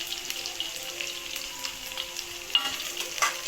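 Curry leaves dropped into hot oil for an egg curry sizzle and crackle steadily while being stirred, with a couple of sharper spits and pops near the end and no voices.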